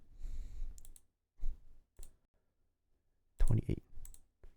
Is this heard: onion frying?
no